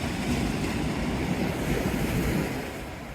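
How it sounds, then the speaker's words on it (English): Sea waves wash against the Teignmouth seafront on a drizzly day, a continuous, full rumble of surf with soft wind noise and no voices. "Sounds of the sea."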